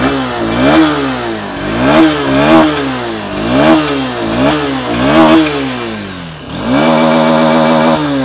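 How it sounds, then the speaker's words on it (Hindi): A 2024 Honda Hornet 2.0 motorcycle engine is revved repeatedly with the throttle, rising and falling in loud surges, then settling into a steady higher drone. "थ्रॉटल देता हूँ,"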